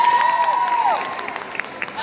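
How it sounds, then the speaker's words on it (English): Applause from a group of students, fairly loud and steady at first, then thinning into scattered claps with a sustained tone sweeping through early on. "So give a round of applause."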